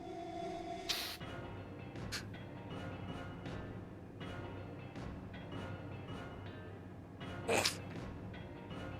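A person sneezes twice, separated by several seconds, each one sharp and brief and rising over a faint steady background hum. No one speaks.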